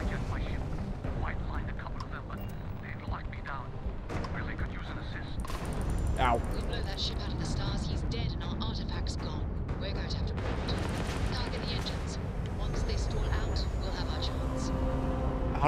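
Rapid game gunfire crackles through a Starfield spaceship dogfight, sharp bursts and booms layered over engine rumble and ongoing talk throughout.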